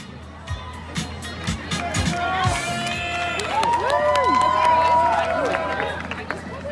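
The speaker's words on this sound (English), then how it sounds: "Please cheer for the candidate of your choosing and for everyone as they come up." A crowd at a 2019 student government election kickoff at Auburn cheers for a candidate, with loud whoops, shouts and scattered claps rising and falling over several seconds, voices yelling throughout.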